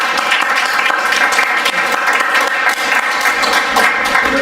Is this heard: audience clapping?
yes